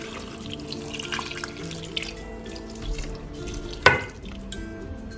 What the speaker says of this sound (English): Now I'm going to be adding just a little bit of water to the meat